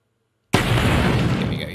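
A game turret's firing sound effect in Unity, one sudden loud blast that starts after a short silence and holds as a broad, roaring rumble before easing off slightly.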